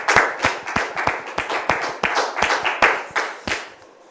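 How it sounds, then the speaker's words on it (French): Audience clapping to welcome a visitor, sparse and rhythmic: roughly a dozen distinct claps in a steady beat, close and fairly loud, fading out at the end with no talk over them. "Merci de recevoir notre visiteur sous vos applaudissements"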